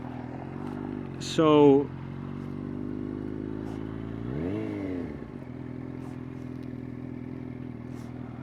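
A Yamaha FZ8 naked motorcycle drones steadily while riding, with a brief rev swell midway and someone talking over the engine note throughout.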